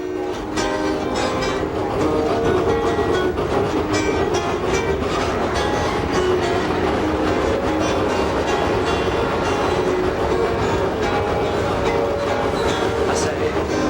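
A sugarcane train on Maui rolls along its rails in a steady, loud, unbroken rumble with rhythmic clatter, close by throughout.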